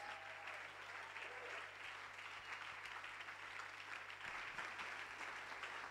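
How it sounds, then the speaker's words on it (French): A church congregation applauds at a worship service, with steady, dense clapping from a crowd that holds at an even level throughout, a little distant and faint. "With the joy, put your hands together for the Lord as we welcome our Papa"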